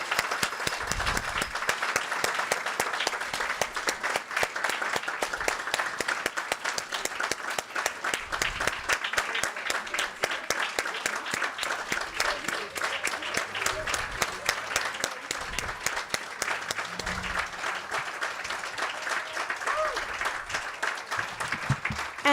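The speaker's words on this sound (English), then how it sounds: "will you please all join me in giving all our recipients one more great round of applause" At the Bethany College alumni awards ceremony, the audience gives the award recipients a long, steady round of applause, with many hands clapping evenly throughout and a few voices faintly mixed in.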